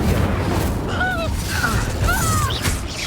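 An Incendio fire spell blasts out during spell combat in Hogwarts Legacy, a loud continuous roaring whoosh of flame with shouted voices over it.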